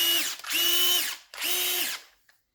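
Parkside PMBSA 4 A1 cordless drill in its drilling gear, whirring up to speed in two loud bursts of close motor whine about a second each, separated by a short stop, with no talking.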